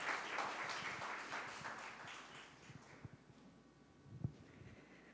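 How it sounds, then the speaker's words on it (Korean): Scattered applause from a church congregation welcoming a speaker to the front during a ministry presentation, fairly soft and thinning out, with a few louder isolated claps near the end. "우리 나오실 때 우리 박수로 한번 맞아주시면 감사하겠습니다."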